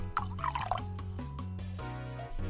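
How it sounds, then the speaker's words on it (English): A fizzy purplish drink is poured into a small tasting glass, a steady liquid stream with bright bubbling and dripping sounds close up, running throughout without talk. "let me pour a little into my tasting glass"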